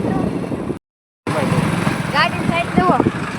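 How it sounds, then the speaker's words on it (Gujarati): A tractor passes along a town street in Mahuva, its engine rumbling continuously and fairly close, under a talking voice; the sound cuts out briefly and then resumes. "ગાડી સાઈડ જુઓ ટ્રેક્ટર વટી ગયું છે મિત્રો"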